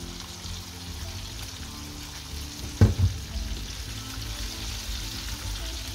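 Chicken wings go into oil heated to about 160 degrees for deep frying, with a sudden splash and burst of crackle as they drop in, settling into a soft, steady sizzle without talk.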